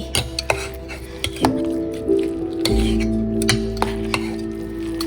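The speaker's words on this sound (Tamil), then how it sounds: "நல்லா இப்படி ஒரு திருப்பு, அப்படி ஒரு திருப்பு, நல்லா திருப்பி திருப்பி" Cooked rice being stirred with curd and milk for temple-style curd rice, giving soft squishy mixing and repeated spoon or ladle clinks against the vessel, close and moderately loud with no talk.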